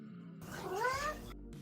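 A house cat gives a single drawn-out meow with rising then falling pitch, close and moderately loud, in a quiet room between bursts of faint indoor noise.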